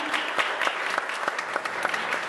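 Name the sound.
audience applause for the cameraman and teacher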